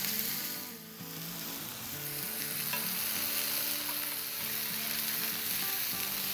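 Burger patties made from hand-rolled balls sizzle and fry in a pan, a steady loud hiss with light stirring scrapes running throughout, no voices.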